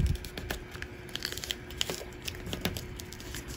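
Thin origami paper crinkles and creases as it is folded into a hexagonal vessel, soft close rustles and small sharp crackles scattered irregularly, quiet with no voice.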